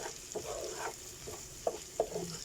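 Sautéed chicken gizzard is stirred in a hot pan, with a steady oily sizzle under occasional scraping strokes of a utensil and two sharper clinks against the pan.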